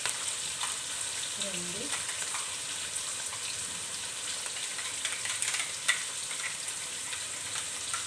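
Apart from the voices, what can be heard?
onion with ginger garlic paste frying for gongura chicken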